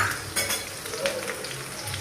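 Onion, garlic and green chili frying in oil in a pan, a dense close sizzle with a few soft clinks of a stirring spoon over the brief span.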